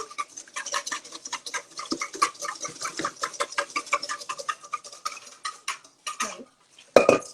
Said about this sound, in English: it's actually starting to get thick. So I'm going to keep whisking